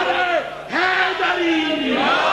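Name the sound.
crowd chanting religious slogan Haideri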